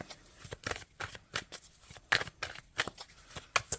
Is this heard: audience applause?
no